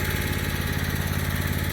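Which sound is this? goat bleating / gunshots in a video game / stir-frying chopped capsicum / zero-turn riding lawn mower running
zero-turn riding lawn mower running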